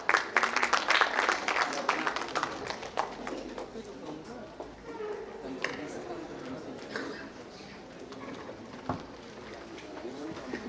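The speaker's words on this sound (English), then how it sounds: "Please join me in welcoming them with a round of applause." Applause at a New Delhi book fair panel on teachers, loudest at the start and thinning into scattered claps, with murmuring voices and room noise underneath as it dies away.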